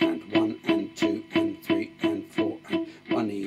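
Electric guitar picking steady eighth notes with no delay effect, about eleven evenly spaced plucked notes with a bright attack and quick decay, dry and close with no echo trailing between them.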